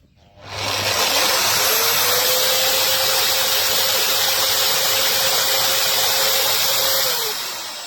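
A MAXXT foldable electric drywall sander switches on and runs with a loud, steady whirring hiss as its dust extraction draws air, holding a constant tone before starting to wind down at the end.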